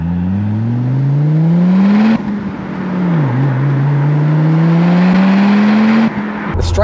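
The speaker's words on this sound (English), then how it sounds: "The straight 5 turbo with the Miltech exhaust is sounding amazing." Audi RS2 straight-five turbo engine with a Miltech exhaust, loud and close, revving up in a rising drone, dropping off, then climbing again on a steady pull with a raspy burble.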